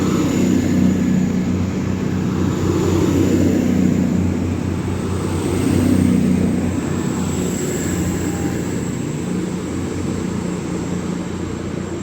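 A Class 220 Voyager diesel train, unit 220-014, runs past on the West Coast Main Line at Stafford station with a steady engine drone and rolling rumble that swells and fades over several seconds, with no voices.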